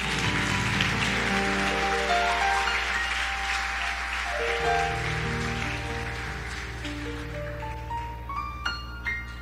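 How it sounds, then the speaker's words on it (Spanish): A church congregation breaks into applause, a rain-like patter of many hands that slowly thins out over steady sustained keyboard or organ tones. "¿Alguien puede darle un aplauso al Señor?"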